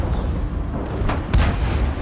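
A World War II tank gun, a Cromwell in a video game, fires once with a deep, heavy boom and short rumble midway through, heard over a steady low engine drone and game ambience.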